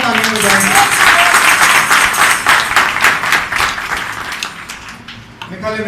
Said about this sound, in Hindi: फिलहाल के लिए जोरदार तालियां बजाएंगे।